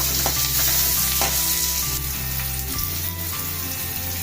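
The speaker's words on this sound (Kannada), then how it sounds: "ನಿಧಾನ ಸಣ್ಣ ಉರಿ ಮೇಲೆ ಬೇಯಿಸ್ರಿ. ಈರುಳ್ಳಿ ಎಲ್ಲ ಮೆತ್ತಗೆ ಬೇಯಬೇಕು" Chopped onions fry slowly over a low flame in oil for a sago (sabudana) snack, giving a steady, close, continuous sizzle with faint stirring scrapes and no talking.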